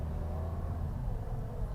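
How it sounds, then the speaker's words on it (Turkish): A 2013–2018 Toyota Corolla with an automatic gearbox whines while shifting gears, heard as a low, steady engine drone and rumble from inside the car. "Vites atarken bağırıyor biraz."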